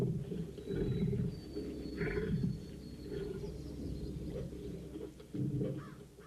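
A tiger roars in deep, rumbling bursts that repeat over several seconds against a steady noisy background.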